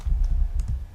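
A few quick keystrokes on a computer keyboard, close and fairly soft, tapped in a short burst while typing a Python print statement.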